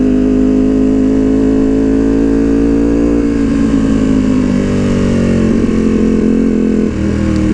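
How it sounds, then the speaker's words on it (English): A Ducati Panigale V2 fitted with a Vandemon full exhaust and dB killers drones loudly and close, its deep engine note holding steady with small shifts in pitch as the throttle changes. "I thought it was gonna like dramatically change the sound of this motorcycle"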